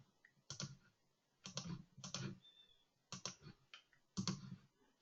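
Mouse clicks tapped out while moving through default settings in a software export dialog, arriving in short clustered bursts of sharp near clicks separated by brief pauses.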